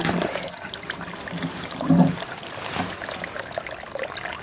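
Water is poured into a garden pond that has begun to bloom with algae, giving a steady splashing trickle that stays fairly loud throughout with a brief stronger gush midway.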